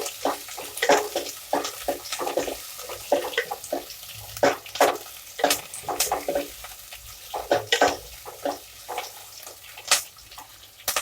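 Sliced onions and crushed garlic frying in a pan, giving a steady hiss with irregular bursts of crackling and spattering pops close by, with no talk.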